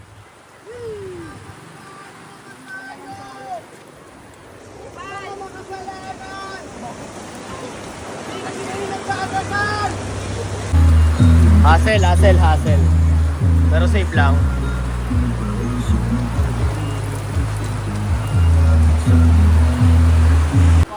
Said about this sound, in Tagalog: Sobrang lakas ng ulan dito sa Dabilan